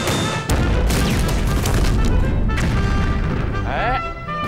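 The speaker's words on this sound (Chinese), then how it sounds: "我听这动静，不像是游击队啊，还有炮呢。" Artillery cannon fire in a wartime battle makes loud, dense rumbling booms and blasts that overlap almost without a break, with voices mixed into the din.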